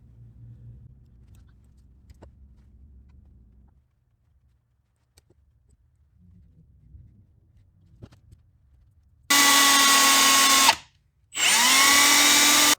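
A power tool shrieks as it cuts a plug for a vintage moped gas leak repair, in two loud sustained bursts split by a short gap after quiet shop rustling.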